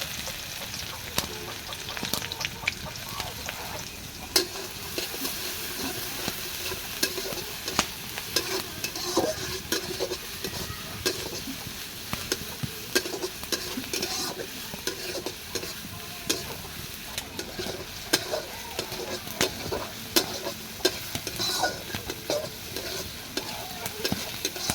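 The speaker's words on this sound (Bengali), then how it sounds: "অল্প একটু ভেজে এবার দিয়ে দিলাম পেঁয়াজ কুচি।" Chopped onions frying in hot oil with bay leaf, cardamom and cinnamon, stirred throughout: a continuous crackling sizzle broken by frequent scraping and clacking stir strokes against the pan, with no talking.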